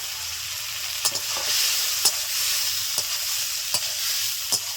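Fried okra being stirred into a mustard and cumin paste masala in a pan, giving a steady close sizzle with a sharp spoon knock against the pan about once a second.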